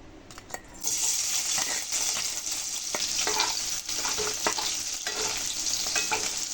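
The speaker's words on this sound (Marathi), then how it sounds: "गरम तेलामध्ये टेचलेला लसूण आपल्याला टाकायचा आहे." Crushed garlic dropped into hot oil in a wok erupts into a loud, continuous close sizzle, with occasional ladle scrapes and taps through it.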